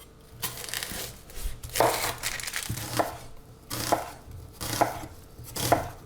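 A knife chops through an onion on a cutting board for a lamb and chestnut daube marinade, giving about five or six crisp, evenly spaced cuts. The chopping is close, moderately loud and heard alone, with no talk.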